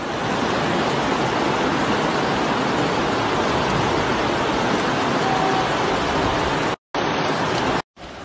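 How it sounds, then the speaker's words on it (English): Rushing floodwaters roar as a loud, steady broadband wash during a natural disaster, continuous and close, with two brief dropouts near the end. "The sound of rushing floodwaters can be heard from miles away."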